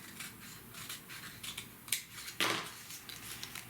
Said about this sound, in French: alors, on va couper ça ici